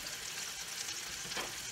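Skinless sweet garlicky longganisa sausages fry in olive oil with a soft, continuous bubbling sizzle, quiet and steady throughout.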